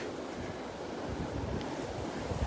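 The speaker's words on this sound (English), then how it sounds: "She said this is wind, not a breeze. It is windy." Strong wind on a beach buffets the microphone in a constant low roar, with surf or rushing air blending underneath and no voices.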